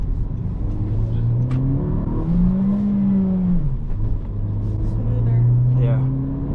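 A 2024 Honda Civic Si with a manual gearbox drones steadily from inside the cabin while driving, its engine pitch rising and falling through revs and shifts, as people talk over it.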